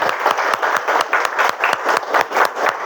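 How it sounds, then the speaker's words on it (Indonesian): A classroom of students claps together at the teacher's cue, a close, brisk and steady stream of claps that rises and dips in loudness for about three seconds with no talking. "kita tepuk tangan dulu semuanya"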